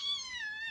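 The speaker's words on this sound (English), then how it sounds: "So see, if it's not my kids, it's the cat." A house cat gives one short, clear meow, a rising then falling cry that is close and fairly loud, with no other sound around it.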